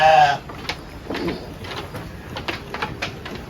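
Sheep on a village farm bleating while eating silage feed, one loud bleat at the start followed by scattered shuffling, munching and clattering noises nearby.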